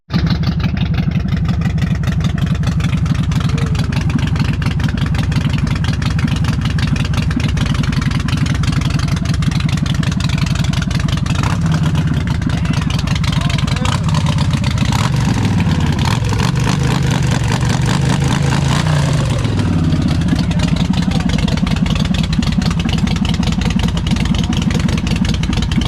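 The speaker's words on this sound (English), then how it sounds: "Do you think I can do a burnout?" A car engine idles and then revs hard and repeatedly in a burnout at night, loud and close, with a continuous rough roar that rises and falls and no talk over it.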